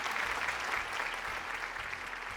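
Studio audience clapping on a Malayalam TV game show set, a steady dense wash of applause lasting throughout, moderately loud with no voices on top.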